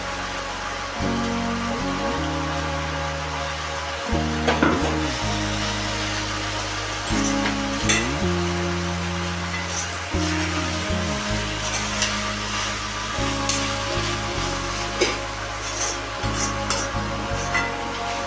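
Ground spice powder is stirred into brinjal and onion frying in a pan, a soft sizzle and scrape running beneath a steady sustained tonal hum with shifting pitch.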